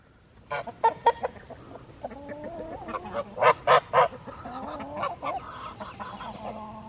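Several chickens cluck and squawk nearby in a busy, irregular chorus, with sharp bursts of calls over continuous low clucking.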